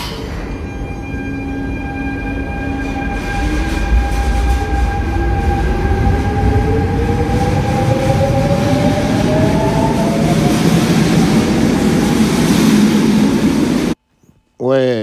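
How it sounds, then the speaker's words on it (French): RER commuter train sets running, with electric traction motors whining in rising and falling tones over steady rolling rumble, loud and continuous, briefly cutting out near the end. "Donc voilà pour le son des rames et les différences."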